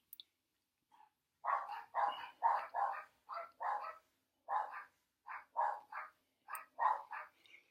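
Several dogs bark from a bed indoors at movement out on the street, a run of sharp, fairly close barks in quick bursts with short pauses, no talk over them.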